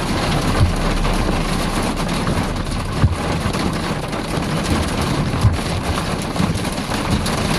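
Steady heavy rain during storm chasing, a dense constant wash with faint low thumps of thunder or hail now and then, continuous and close with no talking.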